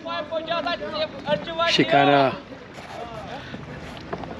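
Shikara boat ride on the water in Srinagar, with soft wind and water noise under nearby speech and a brief louder voice.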